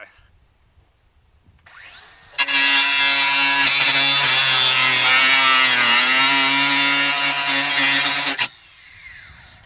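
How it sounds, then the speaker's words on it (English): A sawzall cuts through a car body from the window area during an Equinox crash test, a loud, steady buzzing rasp that starts abruptly, runs continuously for about six seconds up close, then stops. "We could get the sawzall going from the, the window."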